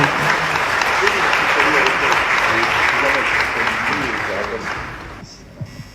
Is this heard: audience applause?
yes